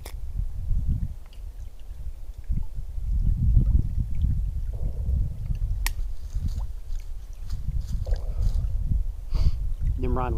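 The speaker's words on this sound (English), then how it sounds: "there's enough wind out here to keep it from igniting" Outdoor wind on a springtime hike gusts and buffets in low rumbles, rising and falling with no clear pattern, close and fairly loud, with a person speaking over it and small handling clicks and scrapes.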